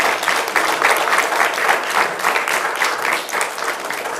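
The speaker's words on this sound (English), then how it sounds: "We can now give the candidates a round of applause." An audience at a Livonia-Westland Chamber of Commerce city council candidate forum gives a loud, dense round of applause, many hands clapping steadily and close for the full four seconds.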